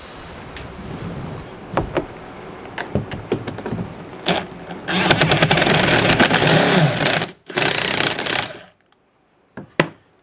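A power drill in reverse backs out a screw, buzzing in short bursts, then running in a longer rattling stretch, ending with a few clicks and a final brief whir.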